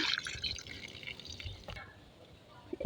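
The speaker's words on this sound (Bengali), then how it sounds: "এখানে আমার এই জবা গাছের গোড়াটা একদম শুকিয়ে গেছে তাই এখানে জল দিয়ে দিচ্ছি" Water is poured onto the dry soil at the base of a hibiscus plant, giving faint, close trickling and dripping sounds with a few soft splashes.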